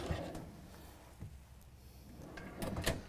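A quiet soft-close drawer in a 2017 Renegade Verona 40VRB motorhome slides shut with soft muffled thuds, closing gently without a slam, in a calm room.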